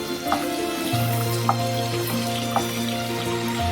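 Boiled ivy gourds fry in hot oil while being stirred, a steady sizzle with a low hum beneath and a few light scrape and clink accents from the stirring spoon.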